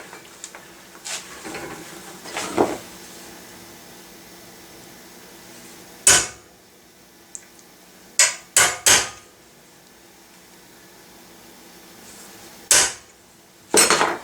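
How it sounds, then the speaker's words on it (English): A hammer strikes a center punch on a gun part held in a vise, giving a few sharp, ringing metallic blows spaced apart, close and loud, with some faint handling noise between. "you can now center punch that"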